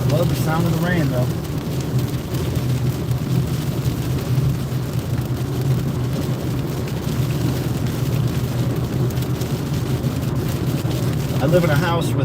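Heavy rain pours onto a moving car on a road trip from Raleigh to Charlotte, North Carolina, a dense, constant hiss and patter with a low road rumble beneath, filling the whole stretch without a break.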